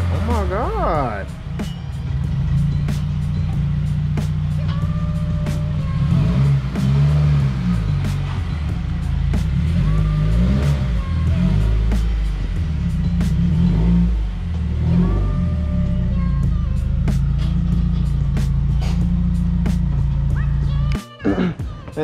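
A 2018 Subaru WRX engine runs and revs loudly nearby in the rain, rising and falling in pitch as it moves, with voices talking over it.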